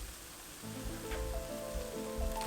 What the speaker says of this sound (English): I cook the tomatoes until it becomes a sauce